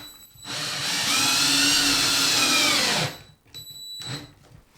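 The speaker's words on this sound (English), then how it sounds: "We're just screwing down plywood" A power drill drives a screw into plywood flooring in a long, steady whirring burst lasting a few seconds, followed by short clicks and a brief second spin, heard up close.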